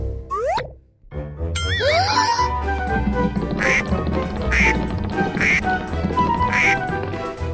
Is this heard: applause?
no